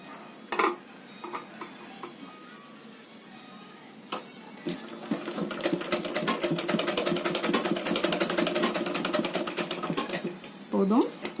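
A sewing machine stitches a denim bag made from old jeans, its needle thumping in a fast, steady, close rhythm for several seconds. A few handling knocks come before it, and a voice speaks near the end.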